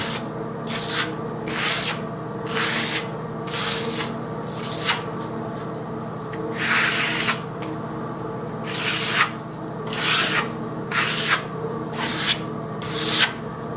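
A steel trowel slides across clay plaster, compressing it in repeated rhythmic scraping strokes, a close, slick swish about once a second over a low steady background hum.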